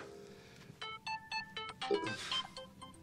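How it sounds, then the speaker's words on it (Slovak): A melodic electronic mobile phone ringtone plays in short repeating bursts of tones, moderately loud, over a low background hum. "zvoní ti mobil"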